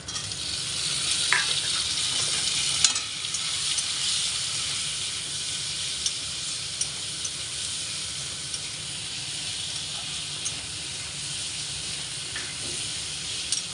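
Raw mango pieces stirred in a hot pan with turmeric powder and salt give a steady close sizzle and hiss, with occasional scrapes of the spoon and no talking.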